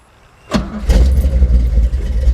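An old Chevrolet Camaro with a carburetor cranks and fires up, catching with a loud bark before settling into a rough, rumbling idle up close.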